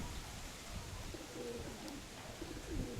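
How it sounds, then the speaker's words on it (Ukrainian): Soft, low pigeon coos sound in a quiet space, a few rounded murmuring calls rising near the end against faint background hiss. "Ось його голубка кримачка, ось вона горбата стоїть боком до нас."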